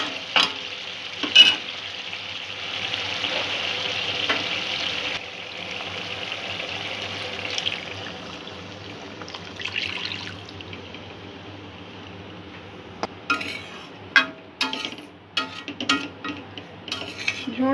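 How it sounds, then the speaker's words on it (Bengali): Water goes into lightly fried spice paste for a Bengali doi tangra catfish curry, with a loud steady sizzle that softens, followed by intermittent stirring and utensil clinks close by. "জল দিয়ে দেবো।"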